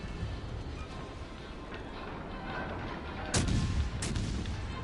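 Ship guns fire during a naval battle game, two sharp, heavy booms close together near the end over a low, rumbling sea and engine backdrop.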